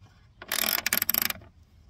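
A ratchet wrench cranking a 10 mm metric bolt gives a close, quick burst of sharp clicking strokes, about a second of rapid metallic ratcheting, alone.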